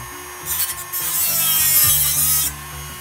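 A hand file works the edges of a metal fan guard cutout that was hacked out with a Dremel, giving a steady scraping rasp of repeated strokes, close and fairly loud, with no talking.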